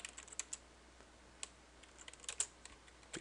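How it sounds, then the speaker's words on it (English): Light keystrokes on a computer keyboard while writing Java code, scattered taps in small irregular clusters, quiet and close with no talking. "And now let's type in the JFrame object,"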